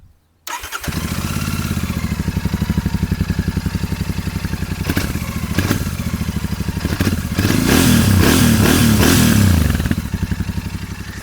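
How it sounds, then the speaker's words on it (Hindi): A Royal Enfield Guerrilla 450 or Continental GT 650 motorcycle engine idles with a loud, rapid pulsing exhaust note, then revs harder for a few seconds before settling back down. "तो ये था दोनों बाइक्स का एग्जॉस्ट नोट।"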